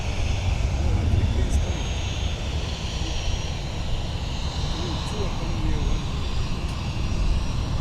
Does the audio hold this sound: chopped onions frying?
no